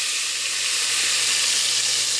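Onions, pepper and ground fish fry in palm oil, giving a loud, steady close sizzle throughout with no talking.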